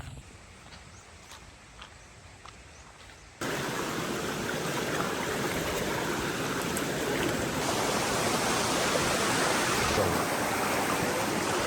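Waterfall and stream near Baler, Aurora, a dense roaring rush of falling water that jumps from a faint background to a loud, steady, close wash and stays constant, with no talking.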